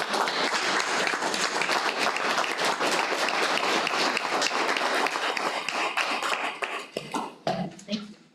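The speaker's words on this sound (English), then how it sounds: "give these guys a round of applause" Loud, sustained applause from attendees at a county government meeting, dense clapping that holds steady for several seconds before thinning into scattered claps and a few voices at the end.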